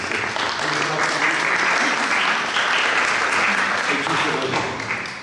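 Audience applause at a photography talk on Gianni Berengo Gardin at Spazio Tadini, dense sustained clapping from a crowd, loud and steady before fading slightly at the end.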